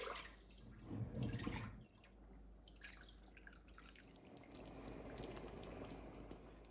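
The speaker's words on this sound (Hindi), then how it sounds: "1 कप पानी इस प्रेशर कुकर में डाल लेते हैं।" Water is poured into a pressure cooker holding cooked beef, a close splashing pour that swells and then tapers into quieter trickling and dripping.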